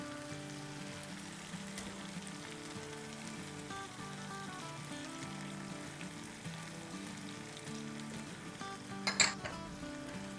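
Keema with four tablespoons of yogurt just added sizzles steadily in a pan while being mixed, with a brief clatter of a utensil near the end; no one talks.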